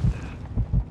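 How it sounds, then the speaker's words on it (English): Heartbeat effect from the video game Modern Warfare, three heavy low thumps, a paired beat then a single, loud and close with a faint hum between. "When you hear the heartbeat."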